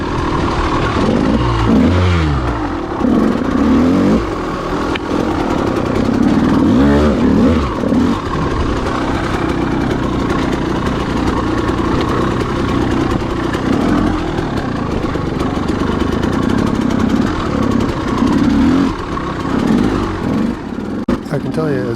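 A KTM motorcycle ridden along a trail loop at Clough State Park, its engine droning steadily and close throughout with rises and dips in revs, and a voice occasionally audible over it.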